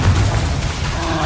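Confringo fire spell exploding in the video game Hogwarts Legacy, a loud, deep boom with a rumbling burst that fades quickly over about a second.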